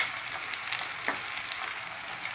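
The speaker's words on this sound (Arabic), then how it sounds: "وغادي نبقى نحرك هاد الحشوه عندي حتى تخلط ليا مزيان" A pie filling with spices, parsley, preserved lemon and sliced olives being stirred in a pan, giving a steady soft sizzle and scraping with a few brief clinks, close and alone.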